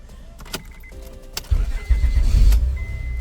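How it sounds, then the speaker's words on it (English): A 2006 Honda Accord with a 3.0L engine is keyed on after a no-crank starter repair, giving a few clicks and a whine, then the engine cranks and catches into a loud, rough idle rumble. "the car is starting, the car is working"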